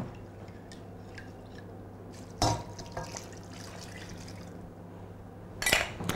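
Stock poured into a pot of Thai curry pumpkin soup, a soft, quiet liquid trickle and slosh with a couple of brief clinks, close by and without talk.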